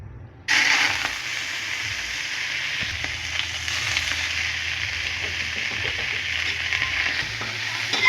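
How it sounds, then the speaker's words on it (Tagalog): Pork fat pieces dropped into hot cooking oil sizzle and fry loudly and steadily, a dense hiss starting abruptly after a short quiet moment and continuing without a break, with faint low kitchen rumble beneath. "Okay, ninit naman ang mantika. Ilunod sa nato ang mga taba."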